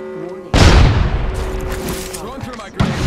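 A frag grenade bursts loudly in the battle royale game Apex Legends, a single heavy blast that rolls off into rumbling debris, with a voice speaking after it and a second thump at the end.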